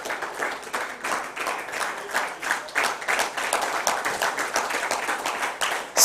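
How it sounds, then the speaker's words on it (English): Steady round of applause from an audience at a young filmmakers project event, honoring a woman expected to become a TV college's first female rector; continuous clapping at moderate distance with no talk. "Just please a round of applause for her."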